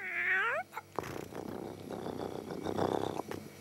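A cartoon cat lets out a rising, wavering meow-like cry, followed by a burst of scuffling, clattering commotion that fills the rest of the moment at steady loudness.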